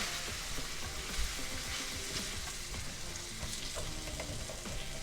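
Pozole rojo ingredients are stirred and fried in a pan; a dense, steady sizzle continues under irregular scraping and stirring sounds, with no one speaking.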